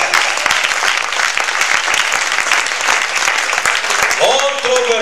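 A church audience at a sermon on the mark of the beast bursts into loud, continuous applause that holds steady for several seconds before a voice breaks in near the end.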